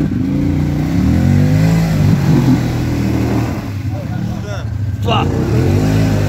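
An SSV stuck in a mud pit revs hard and holds a loud, wavering engine drone with rising and falling pitch, while voices shout over it.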